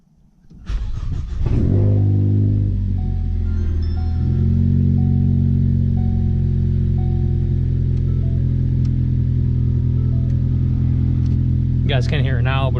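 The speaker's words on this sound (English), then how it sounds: "So I'm gonna go ahead and start it up" A car fitted with an exhaust cutout fires up after a brief crank and settles into a loud, steady, rumbling idle close by. The idle runs for several seconds, with a short burst of other noise near the end.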